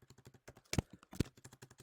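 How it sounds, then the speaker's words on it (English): Typing on a computer keyboard while testing input in a browser console, a quick run of light key taps with two louder, heavier strokes in the middle, close and with no talk. "start typing."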